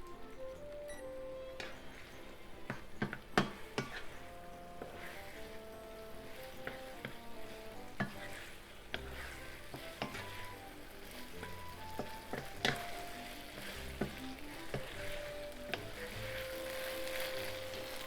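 Eggplant and pork stir fry sizzling in a hot pan, a steady soft hiss with occasional light clinks and stirring scrapes, all under continuous background music.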